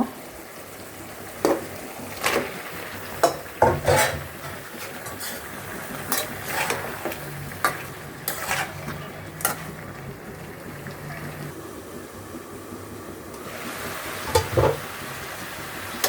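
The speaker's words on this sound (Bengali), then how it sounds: "এবার মূলো দিয়ে ভালো করে কষিয়ে নেব।" Radish stir-fried in a pan for a rohu fish curry, with steady faint sizzling under intermittent sharp clinks and scrapes of a spatula stirring against the pan, no voices.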